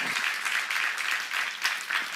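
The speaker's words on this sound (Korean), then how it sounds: "박수 한번 드세요" Church congregation applauding during a sermon seminar, a steady broadband wash of many hands clapping at once, fairly close and sustained for the whole stretch with no talk over it.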